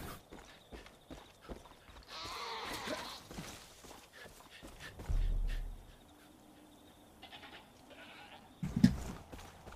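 Sheep bleating in the video game Far Cry 5, brief animal calls amid game sounds, footsteps and clattering, with a sharp loud thump near the end.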